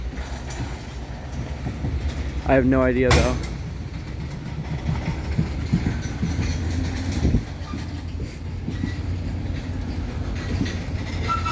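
A Wheeling & Lake Erie freight train led by EMD locomotives rolls along jointed rail in the evening with a steady rumble, a brief horn or whistle blast near the middle, while someone talks briefly over it.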